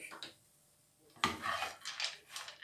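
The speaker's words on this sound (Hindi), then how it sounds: "इन्हें 2 से 3 मिनट इसी तरह मिक्स करना है।" A spoon scrapes and knocks against a pan while a sticky date and dry fruit mixture is stirred, a quiet pause followed by several close, brisk rubbing strokes.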